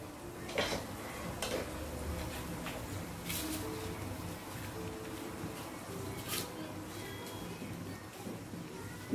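Spinach and makayabu being stirred in a cooking pot, with a steady run of soft scraping and light clinks from the spoon against the pot, close and fairly even throughout.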